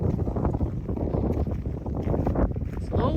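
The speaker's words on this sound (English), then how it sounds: "It's a little windy right here." Wind on a mountain trail near Chattahoochee Gap on the Appalachian Trail, blowing in a steady, gusty rumble that buffets the microphone up close for the whole stretch.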